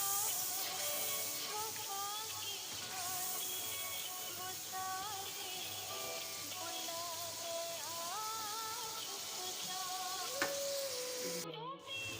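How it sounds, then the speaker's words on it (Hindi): Mutton keema frying and being stirred in a pan, a steady soft sizzle running throughout at moderate level, with a melodic tone and faint voices in the background. "इसको अच्छे से हम भून लेंगे"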